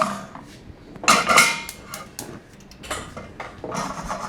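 A pot holding a maple mixture with a little cinnamon is set down on the stove, giving a few close metallic clunks and scrapes in short bursts, with no talking.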